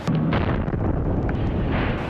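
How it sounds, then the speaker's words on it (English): Bomb blast at the Boston Marathon finish line on Boylston Street, a loud sustained booming roar with rumbling low end and scattered crackling bursts, dense and chaotic throughout. "The first blast happened here on Boylston Street, just feet from the finish line."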